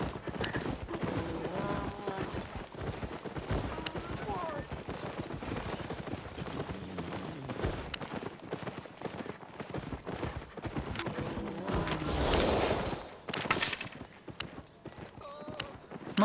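Horse hooves clip-clop in a steady rhythm over a dense, busy background, fairly faint and continuous for the whole stretch.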